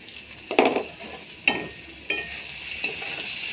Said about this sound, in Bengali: চালটা এবার নাড়াচাড়া করে মিশিয়ে নেব।